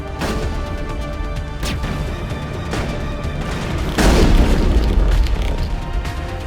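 A massive rocket explosion in the video game Mass Effect lands as a loud, deep boom partway through, over continuous game noise and low rumbling.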